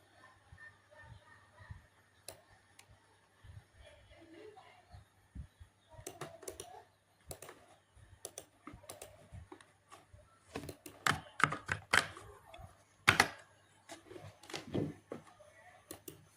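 Someone types on a computer keyboard close up, sparse key clicks at first building to fast clustered bursts of tapping over a faint background hum, with no talking.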